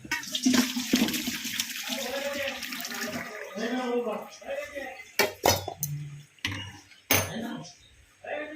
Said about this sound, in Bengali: একটু সেদ্ধ করে নিলাম জলটাকে ঝরিয়ে নিই